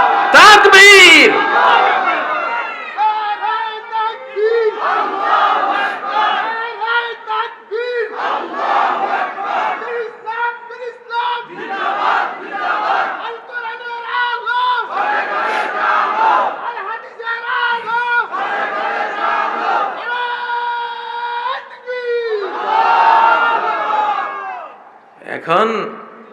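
A large crowd at an Islamic religious sermon (waz) roars a takbir response in repeated bursts of loud, drawn-out collective chanting, each wave swelling and fading with brief pauses between, close and dominant.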